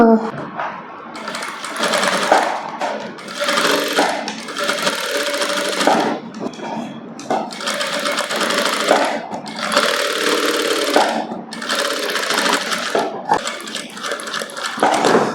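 A sewing machine stitches around the curved neckline of a princess-cut blouse in long, steady loud bursts separated by brief pauses, the motor whirring close up with a faint dog sound in the background.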